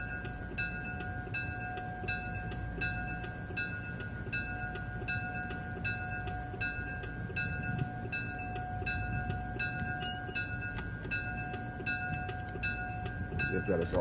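An Amtrak Acela train runs in Train Sim World 3, with a constant cab hum and rumble, steady tones and a regular pattern of repeating electronic beeps throughout.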